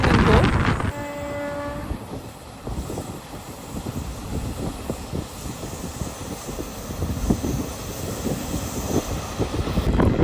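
A passenger train running through Nallamala forest gives a short horn toot near the start, followed by a continuous rattling rumble with clacking wheel beats throughout.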